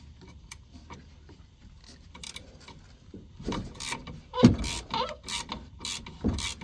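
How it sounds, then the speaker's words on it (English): A wrench works the nut loose from the top of a Toyota Tacoma's rear shock, giving quiet scraping at first, then a run of louder ratcheting clicks and metallic knocks close by, with no talking. "Taking off the nut off the top of the rear shock."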